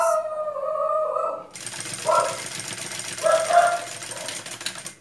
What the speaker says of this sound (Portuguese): Minha cachorra ficou nervosa com alguma coisa, algum barulhinho